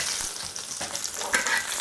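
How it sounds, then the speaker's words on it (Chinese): Bean sprouts and bamboo shoots stir-fry in hot oil in a wok for spicy Mao Xue Wang, giving a steady close sizzle with scraping stirs and a brief louder crackle partway through. "我们第一步骤先把这个豆芽和竹笋先炒一下"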